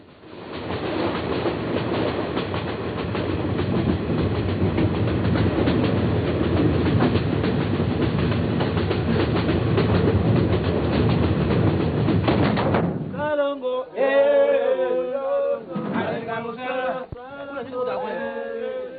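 A train travelling through forest in the Congo rumbles steadily with a continuous rolling clatter, loud and close, then gives way to voices talking near the end.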